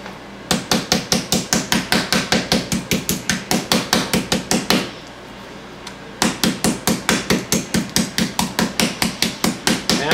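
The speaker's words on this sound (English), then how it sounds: "Pound that out." Meat mallet pounding venison to tenderize it, a steady run of loud, rapid thwacks that pauses for about a second and a half, then resumes at the same brisk rhythm, close and with no talking.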